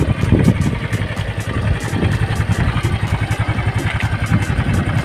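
A Honda Vario 110 carbureted scooter engine idles steadily up close, giving a continuous low, fast putter with a slight mechanical clatter throughout and no other sounds.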